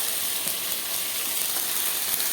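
A spice paste with chopped tomato and turmeric fries in a pan for a Bengali egg curry, giving a soft, steady sizzle at moderate distance with no voices.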